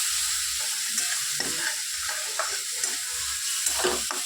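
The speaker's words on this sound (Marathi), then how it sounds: "मीठ टाकून घेतल्यानंतर आपण लसूणही टाकून घेणार आहोत आणि छान परतवणार" Garlic and salt sauté in a hot oiled pan for a cabbage dish, giving a steady close sizzle broken by scraping stirs of a spoon against the pan.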